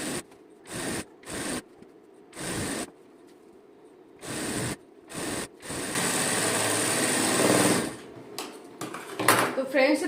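A sewing machine stitches a salwar in short choppy bursts followed by a longer continuous run, close up, with pauses between runs and a voice speaking at times.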